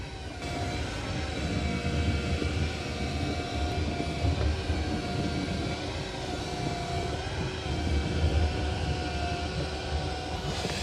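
A Roborock Qrevo Edge robot vacuum-mop undocks and remops a floor area, giving a steady, close motor whir with faint tonal whine that drones on evenly throughout, without any talking.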